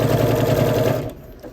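A sewing machine with a walking foot stitching quilt binding at a 2.4 stitch length runs in a fast, steady, close mechanical whir, then slows and stops near the end.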